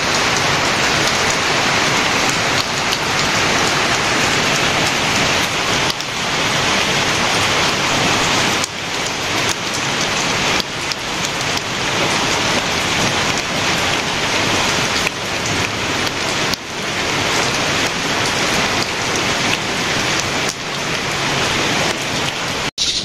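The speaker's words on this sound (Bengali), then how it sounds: "এর মধ্যেই হয়ে গেল 2-3 বার বৃষ্টি হয়ে গেল" Heavy rain pouring steadily on surfaces in a village, a loud, dense, continuous hiss with rattling drops throughout and no talk.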